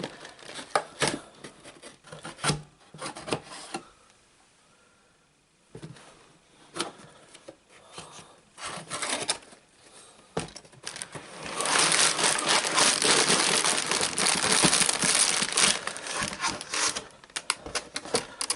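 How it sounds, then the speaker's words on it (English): Irregular scraping, slicing and crinkling as a knife blade cuts open a cardboard box for a Lego 10497 Galaxy Explorer set, with bursts of tearing and rustling packaging, close and fairly loud, no voices. "Let's get my knife in and we'll get this open though."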